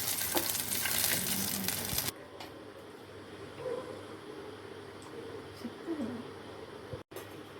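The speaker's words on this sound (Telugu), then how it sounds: "అలాగే ఎండుమిర్చి కూడా వేసుకోవాలి ఇందులో. చూడండి, ఇలా బాగా వేగాయి కదా." Dried red chillies fry in hot oil in a pan for thotakura pachadi, giving a loud, steady sizzle that cuts off abruptly after about two seconds, leaving a quieter room tone with faint bird cooing.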